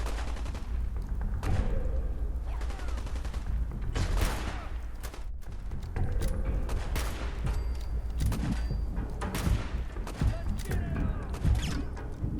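Fallout 4 combat erupts in repeated gunfire, sharp cracks and rapid bursts spaced throughout with booming low thuds, loud and close, with occasional speech in the mix.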